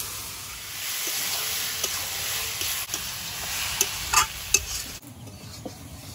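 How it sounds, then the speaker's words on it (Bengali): Soybean chunks fry in hot oil in a kadai with a steady close sizzle and occasional sharp clinks of a spatula, the hiss dropping off abruptly toward the end. "এবার সয়াবিনটা ভেজে নেব।"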